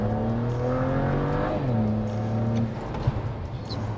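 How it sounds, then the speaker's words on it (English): A BMW 335 with a ZF6HP automatic transmission accelerates hard from first, its engine note climbing steadily and then dropping as it shifts up, heard from inside the car. "We'll let it down into first, and we'll go up through the gears."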